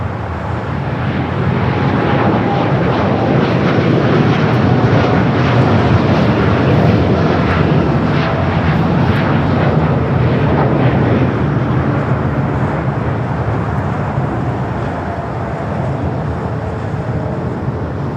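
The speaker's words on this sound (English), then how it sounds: "Our United Dreamliner now rolling down the 25 right." A United Boeing 787 Dreamliner rolls down runway 25 Right at Los Angeles International Airport, its engines a loud, steady broadband roar that holds for the whole stretch and eases slightly near the end.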